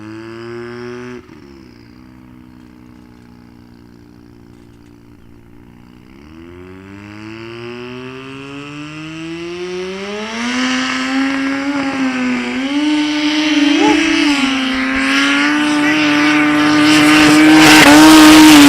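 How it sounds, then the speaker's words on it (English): A rotary-engined car launches at a Sunday drag race in Mkhuze, its engine rising from a steady idle into a loud, climbing rev that builds and stays near and strong to the end. "let's see what this rotary does"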